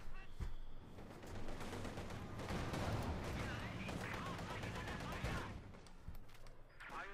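A skirmish in Company of Heroes 2 between grenadiers, penal troopers and a light machine gun team, with dense overlapping rifle and machine-gun fire rattling continuously under a commentator's voice.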